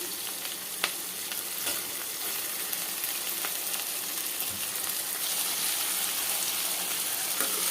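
Steady sizzling of eggplant and turkey berries frying in a hot pan, with occasional stirring scrapes and no talking.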